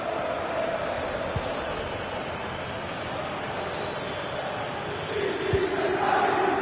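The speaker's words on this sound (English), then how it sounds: "the crowd is certainly trying to motivate the team to push them forward to get the equaliser" Stadium crowd in a football video game, a steady dense roar of massed cheering and chanting that swells louder near the end, with faint distant voices underneath.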